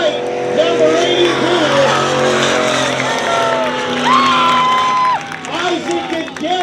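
Race cars roaring around a dirt track during a night race at Dirtona Raceway, loud steady engine drone with rising and falling revs, a crowd cheering, and an announcer calling the finish over the top.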